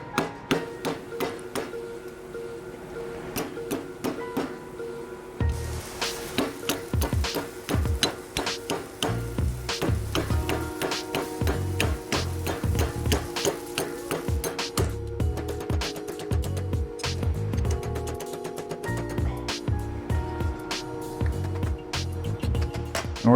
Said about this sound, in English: I'm going to hammer these two corners now and try to put a bit of radius in them.